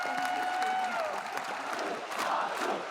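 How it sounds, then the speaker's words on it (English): A big esports event crowd cheers and chants a player's name, a loud roar of many voices with whoops and a rising chant tone, swelling again near the end as the noise keeps building. "Because it's people actually cheering your name."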